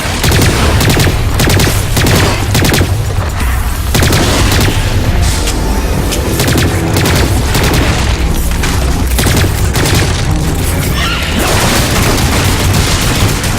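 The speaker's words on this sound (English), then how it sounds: "Some shooting there." Loud, dense gunfire and heavy explosions in the video game Lost Planet 3, rapid bursts of shots overlapping deep booms in a relentless barrage that continues with only brief lulls.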